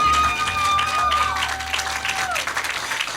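Applause from a studio audience at a live Valentine's talk show, dense steady clapping that gradually thins toward the end, with a sustained tonal sound ringing over it early on.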